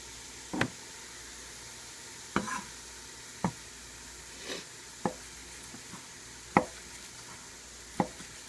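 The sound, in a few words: chopping slow-cooked chimichanga filling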